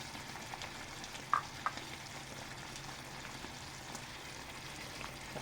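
Beans and fried potatoes are fried and stirred in a pan for chicken pochero, giving a steady quiet sizzle with a couple of sharp utensil clinks against the pan.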